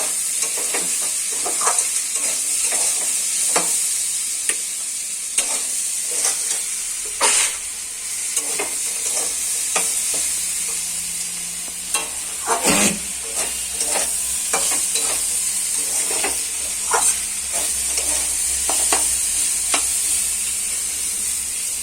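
Vegetables for chire polao, a flattened-rice pulao, fry in a pan with a constant loud sizzle, while a spoon or spatula scrapes and stirs at irregular intervals, sharp clacks punctuating the hiss.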